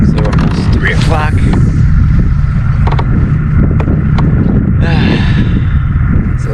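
Strong wind blows steadily across open water during a kayak fishing trip at Cockroach Bay, with a constant loud buffeting roar throughout and brief chirpy or voice-like sounds rising above it.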